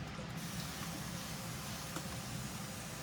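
Spray paint hisses steadily onto a wooden Christmas directional sign, one continuous close spray lasting a few seconds with no talk.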